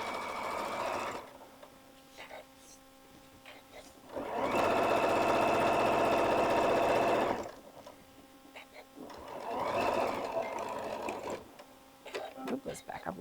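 A sewing machine stitches a Mylar embroidered spider bag to the edge in two loud bursts of a few seconds each, separated by quieter handling, with someone talking in between.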